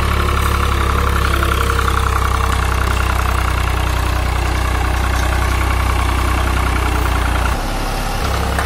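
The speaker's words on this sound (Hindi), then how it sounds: "अपना 99 मॉडल ट्रैक्टर है" A 1999 Swaraj 735 FE farm tractor with a harrow attached idles steadily nearby, giving a loud, even low-pitched diesel rumble that dips briefly near the end.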